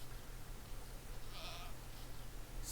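A goat in the Minecraft video game gives a single faint, short bleat over a steady low hum of game ambience.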